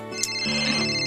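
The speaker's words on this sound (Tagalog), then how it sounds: "Teka, cellphone ko nagre-ring." A cellphone ringtone chiming, a steady electronic tune ringing clearly and continuously for about a second, with no talk over it.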